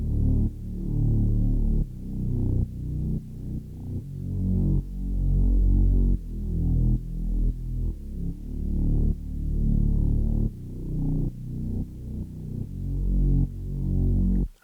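Saturated synth bass, heavy in the lows and mids, with sidechain compression making its level duck and swell in a steady pumping rhythm against a kick, loud and alone with no talking.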